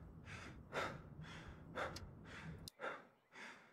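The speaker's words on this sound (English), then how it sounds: "I don't think he's gonna stop breathing." Player character's heavy, rhythmic breathing in Road to Vostok, slow repeated inhales and exhales, close and soft with a faint steady background hiss, no talk.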